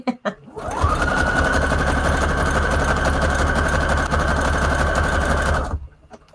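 A sewing machine runs a zigzag stitch on a paper junk journal tag, one continuous steady whirring buzz lasting about five seconds, starting and stopping abruptly.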